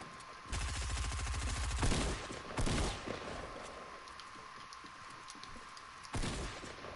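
Rapid bursts of weapon fire and explosive thumps from grenades being launched in the Fortnite video game, loud and continuous across the clip.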